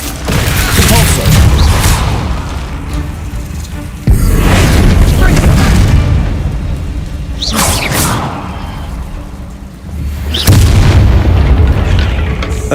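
A Repulsor spell from the Hogwarts Legacy video game bursts in loud, booming whooshes, four heavy blasts spaced a few seconds apart, with voices heard between the impacts.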